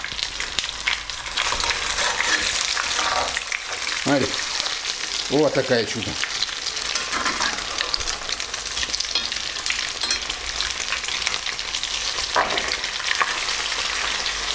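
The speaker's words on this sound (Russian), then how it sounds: "жарим буквально по 2 минутки с каждой стороны" Crucian carp sizzles and fries steadily in a pan, loud and close, with a person talking briefly over the constant crackle.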